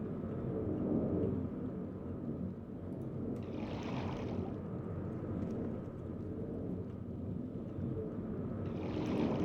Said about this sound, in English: Seems like this is a pretty windy spot here.